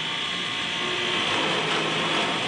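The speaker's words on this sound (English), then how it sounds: "I'm going to plug in the drill press" A drill press with a screwdriver chucked in it runs steadily on power from a 3000-watt generator, giving a continuous whirring, rattling mechanical drone close by with no speech.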